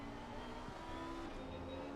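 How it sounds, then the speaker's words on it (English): A faster race car passes by during a racing sim event at Donington Park, its engine a faint, steady droning whine with a slight pitch shift as it goes. "he's allowing the faster car to pass by"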